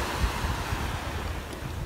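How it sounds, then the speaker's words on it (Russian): Sea surf rolling onto the beach at Marbella, a steady broad wash of breaking waves mixed with wind buffeting the microphone, continuous and fairly close, with no voices. "Сейчас Катька будет покорять волны, наверное."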